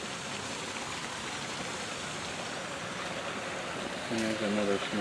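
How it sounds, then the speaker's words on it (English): Small waterfall in a Japanese garden: steady broadband rushing and splashing water, close and constant, with a brief burst of voice near the end. "And there's another small waterfall."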